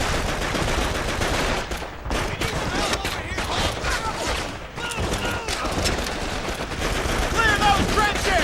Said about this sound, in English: I gotta get off this daggone machine gun.